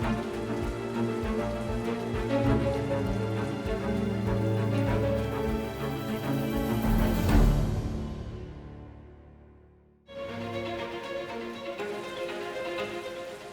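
Heavy rain at Stonehaven harbour in Scotland falls steadily, a dense broadband patter, briefly dipping away before returning just as strong.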